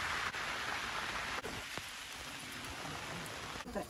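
Steady rain patters close by on a hill, an even hiss of drops with a few sharper taps, no voices.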